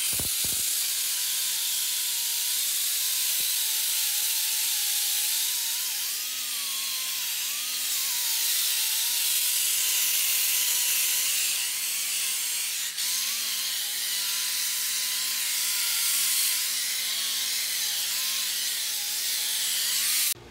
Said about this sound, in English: It's going to be with a pneumatic angle grinder, paint remover, wheel disc on there